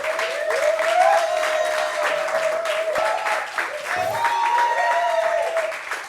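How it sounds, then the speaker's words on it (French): An audience claps to welcome a guest on a debate show, steady applause running throughout with voices talking and calling out over it. "Applaudissements pour Conan Eugène, s'il vous plaît"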